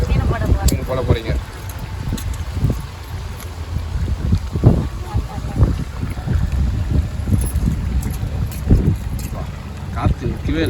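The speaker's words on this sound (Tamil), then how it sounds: "காத்து நிற்கவே இல்லை." Strong wind blows steadily beside a beach along a roadside, with low gusting rumble and microphone buffeting throughout as people talk over it.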